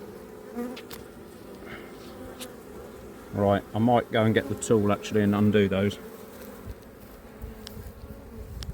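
Honeybees buzz busily around an open hive in an apiary during queen re-marking ahead of swarming season: a steady, close hum that continues while someone speaks nearby.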